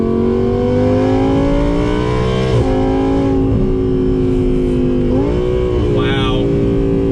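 A 2018 Audi R8 V10 Plus Spyder engine drones close by at a steady, throaty idle, with two quick rev blips lifting the pitch before it settles back.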